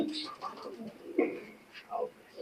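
Teddy pigeons cooing up close, several soft throaty coos in short bursts while someone talks over them.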